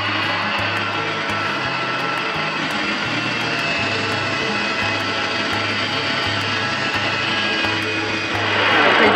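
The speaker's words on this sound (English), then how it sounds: "And now put your toe on the electric winch." An electric winch on a catamaran hauls up the mainsail, giving a steady, loud motor drone with a faint rhythmic pulsing underneath that swells slightly at the end.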